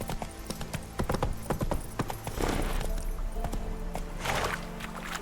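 Roach, a horse in The Witcher 3 video game, gallops with rhythmic clip-clop hoofbeats, fairly quiet with a few louder rustling bursts and no talk.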